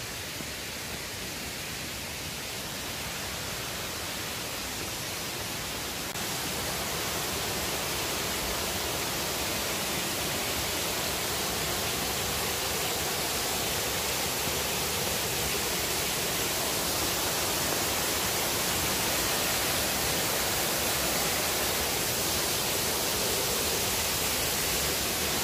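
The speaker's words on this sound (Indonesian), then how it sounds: "Lihat air terjun." Waterfall on Jiri Mountain in light drizzle, a steady broad rushing roar of falling water that swells slightly after the first few seconds and stays unbroken, with no voices.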